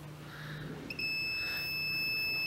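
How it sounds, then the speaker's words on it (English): A multimeter set to continuity emits a steady, fairly faint high beep that starts suddenly and continues while its probes touch a fuse, with background hum underneath. "makes a beeping noise, which means I have continuity"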